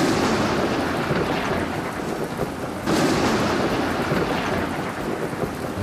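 Thunder from lightning during a thunderstorm rumbles loudly and continuously over steady heavy rain, with a fresh crack and swell of rolling thunder about halfway through.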